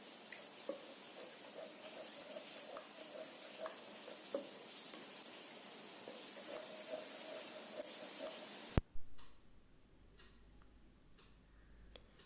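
Yogurt being stirred into biryani masala in a pan, a steady close sizzle with soft ticking scrapes of the spoon, then an abrupt clunk as the cooking noise drops to a faint hush.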